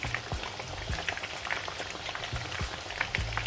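A steamed chicken chargha browning in a pan makes a steady, dense sizzle and crackle of hot oil, close and constant, with scattered sharper pops throughout.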